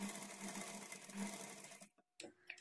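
A sewing machine stitches a blouse with a steady, close whirring hum that runs for about two seconds, then stops abruptly, followed by a few faint clicks and a short mechanical squeak.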